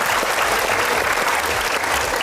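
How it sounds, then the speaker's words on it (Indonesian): Sustained applause from a studio audience on an Indonesian television talk show, loud and dense throughout, with no talking over it. "Boleh berikan tepuk tangan ya sekali lagi ya?"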